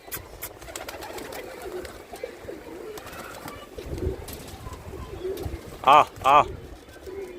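Pigeons coo on a rooftop in soft, low calls against a faint outdoor background, and a man nearby makes two short calling sounds to lure them.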